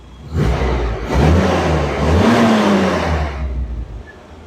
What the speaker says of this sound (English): Yeah, very healthy engine.